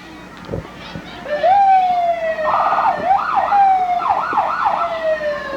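A loud emergency siren sounds at a Christmas parade in Borger, 1994, climbing into a long wail and then switching to a quick warbling yelp over a steady rumble of vehicles and the street crowd.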